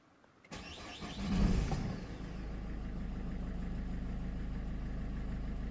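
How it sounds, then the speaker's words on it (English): A Peugeot 3008 engine cranks briefly, catches with a surge, then settles into a steady low idle. "watch very careful when I start the engine"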